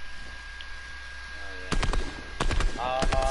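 Video game gunfire from a purple pump shotgun, a heavy and a drum gun, heard as a few sharp bursts in the back half after a quiet stretch, mixed with voices talking.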